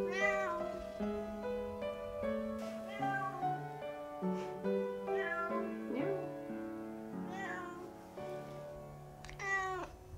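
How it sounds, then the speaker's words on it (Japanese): A calico cat settling into a new home meows repeatedly, about eight drawn-out, plaintive cries spaced across ten seconds, close and fairly quiet with a hushed room in the background. "猫"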